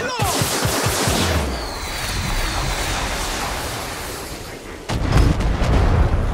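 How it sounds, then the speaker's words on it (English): Rapid bursts of car-mounted machine gun fire in Far Cry 6, loud and close, with a dense rattling barrage from the start that swells again near the end over rumbling engine noise. "Bullshit, it has a machine gun on it."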